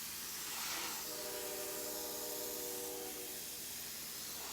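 An airbrush hisses steadily while spraying black paint, a continuous close airy spray that holds for several seconds with a faint tonal whine partway through and no talking.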